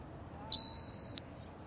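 A Swing Beep golf training aid clipped to a cap gives a single steady electronic beep lasting about two-thirds of a second, clear and close against quiet background.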